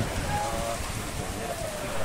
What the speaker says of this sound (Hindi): बारिश बहुत तेज आ रही है